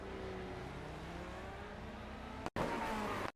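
Engine roar from a short track race car heard onboard at Wall Stadium in New Jersey, a steady loud drone with shifting engine pitch, cut by a brief dropout near the end.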